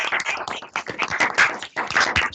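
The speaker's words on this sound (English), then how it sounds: "Maybe we can unmute and clap." Online audience members unmute and applaud after a mathematics lecture on McKean's proof of the Riemann mapping theorem: a dense, steady patter of many hands clapping, fairly close and uneven across connections, running throughout.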